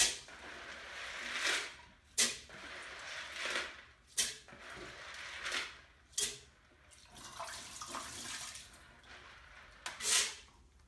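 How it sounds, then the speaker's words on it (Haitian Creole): Tap water runs in uneven surges into a measuring cup in a home kitchen, with a soft steady rush broken by sharper splashes and drips, fairly faint and close, no talking. "She's filling it up to its full capacity, but this time with water."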